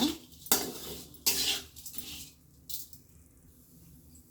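Cumin seeds dry roasting in a pan over a medium-low flame for bisi bele bath spice powder: short, dry rattling scrapes of a spatula against the pan come in a few close bursts, with quieter gaps between.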